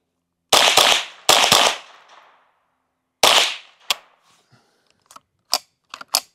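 Sharp, loud reports from a .22 Ruger pistol fired with a Ruger BX25 25-round magazine: a fast double, then another pair, a lone shot after a pause, and faint metallic clicks trailing off, with no talking.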